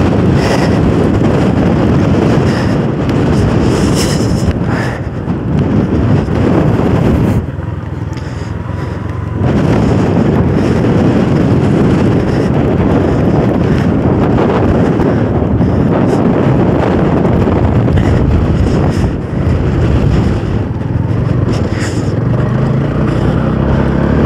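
Wind buffets the microphone during an extreme offroad motorcycle ride in the Idukki hills, a loud, rough roar that fills nearly the whole stretch and eases only briefly once early on.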